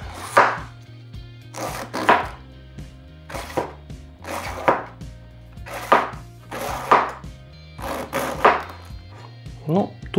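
Cabbage being chopped with a kitchen knife on a board, roughly a dozen sharp crunchy cuts in an uneven rhythm, close and fairly loud with no talk.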